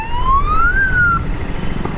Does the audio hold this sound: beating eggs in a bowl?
no